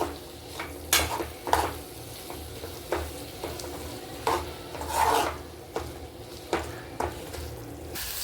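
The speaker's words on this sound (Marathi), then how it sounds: "म्हणून आता इथे मटकी मी फोडणीत टाकलेली आहे. आता ती मस्तपैकी आपण परतून घेऊयात छानपैकी" Raw moth beans (matki) sautéing in hot tempering, stirred with a spatula: rhythmic scraping strokes about once a second over a soft continuous sizzle, close up and without talk.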